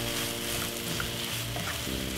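A corned beef and vegetable fry-up with ketchup sizzles steadily in a pan as it is stirred, a close, dense crackle with faint utensil movement and no talk.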